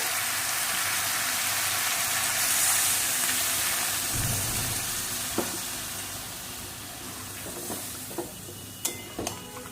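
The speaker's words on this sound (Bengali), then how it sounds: "এবার আমি এর মধ্যে জল দিয়ে দেবো, খুব সামান্যই জল দেবো যেহেতু কষা বানাবো।" Chicken kasha in a pan sizzles loudly and steadily as a little water is added, a hissing fry that eases slightly and gives way to a few faint clinks and scrapes of stirring near the end.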